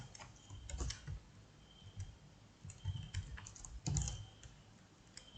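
Code is typed on a computer keyboard in short uneven bursts of quiet clicks and clacks, close and soft, with pauses between runs and no talk.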